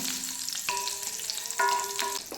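Cardamom pods and a handful of cashews sautéing in a pan, with a steady frying hiss and a few light clinks of stirring, heard close up with no voices.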